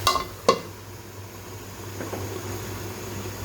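A lid clanks down onto a pan of cooking shorputi fish in a home kitchen: two sharp metallic knocks near the start, then a faint simmer under a low steady hum.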